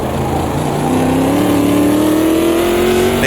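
A 7-liter, roughly 500-horsepower American car engine in the Automobilista 2 racing game at Rouen, loud and close, revving steadily upward with a rising drone and deep rumble under acceleration.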